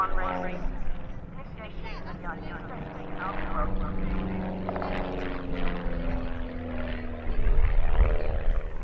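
A Cosmic Wind propeller racer with an 85-horsepower engine flies an aerobatic display at the Duxford airshow, its engine droning and shifting in pitch as it climbs and rolls overhead, under a commentator's continuous narration.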